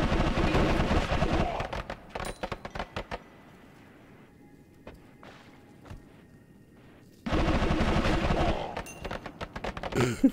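A rapid-fire magic spell in Noita chatters like a machine gun in dense, loud bursts, drops to sparse cracks and quiet for several seconds, then erupts again into a continuous volley.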